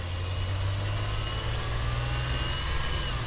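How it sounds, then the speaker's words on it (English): A van's engine runs loud and steady up close, with a continuous low drone and a sustained mechanical hum throughout, no voices over it. "Get those RPMs back up, make sure we're getting the correct amount of oil pressure."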